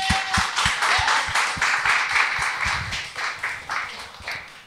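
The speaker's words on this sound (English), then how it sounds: "Let's clap for Jan." A studio audience clapping for a guest named Jan, with steady, moderately loud applause filling the clip with no talk over it.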